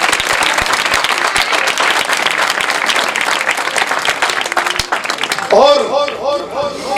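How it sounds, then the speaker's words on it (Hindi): A church congregation applauds during a sermon with a loud, dense burst of clapping from many hands that runs for several seconds, then gives way to a voice and tonal sound near the end. "तालियां बजा दें।"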